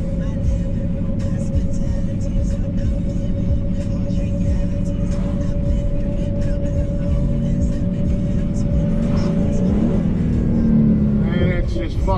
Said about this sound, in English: And it's just fucking free revving.